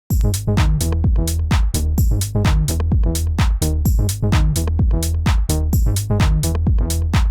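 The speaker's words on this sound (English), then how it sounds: "So the next bass is the digital bass, and it sounds like this." Digital bass synth programmed in Serum pumps out a fast, punchy sequence of short plucked notes in a steady rhythmic pattern, bright and close, with no voices over it.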